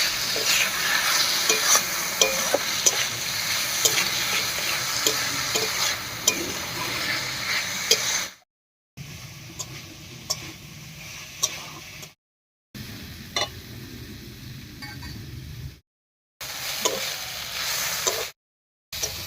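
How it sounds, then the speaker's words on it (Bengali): Mung dal is stirred into fried masala in a pan, with a spoon scraping and clinking steadily under a soft sizzle, broken by a few brief silent gaps. "এবার এর মধ্যে দেব মুগ ডাল এবার মশলা নিয়ে মিশিয়ে নেবো"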